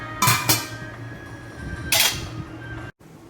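A lid goes onto a cooking pot of mutton left to simmer, giving two quick metallic clinks close by, then another clatter about a second and a half later as the lid settles.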